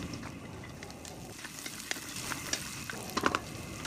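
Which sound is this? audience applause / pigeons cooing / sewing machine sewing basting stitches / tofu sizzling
tofu sizzling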